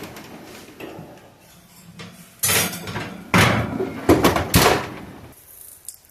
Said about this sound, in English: we're ready to take this out of the oven